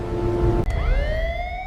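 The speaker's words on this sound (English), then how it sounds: "Initiate coastal sirens now!" A coastal warning siren tone holds steady, cuts off briefly, then rises again in a sweeping wail over a low rumble.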